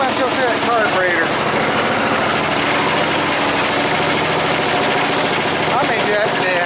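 A Bolens GroundsKeeper tractor and a 1054 Husky running together after a cold start, a loud, steady, rapid chugging engine clatter filling the whole stretch up close, with a voice briefly heard over it.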